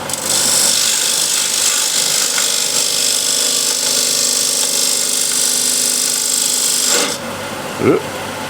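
A hand scraper drawn across wood for a picture frame gives a loud, continuous raspy scraping for about seven seconds before stopping abruptly, with a brief faint knock near the end.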